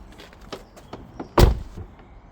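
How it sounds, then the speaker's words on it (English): A Tesla Model 3 door shuts with one solid thud, preceded by light handling clicks and taps close by. "Door shuts okay, check it opens."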